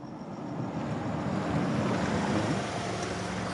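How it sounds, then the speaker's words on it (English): A car pulls up and its engine shuts off in the visual novel World End Syndrome: a steady, close engine rumble and road hiss swell slightly, then hold evenly for a few seconds, with no voices. "The sound of a car engine turning off comes through."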